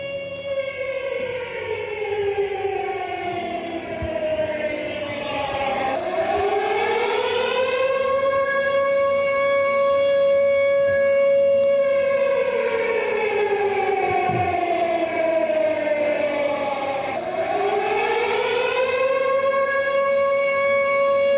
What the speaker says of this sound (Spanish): ¿Qué te dice esa sirena?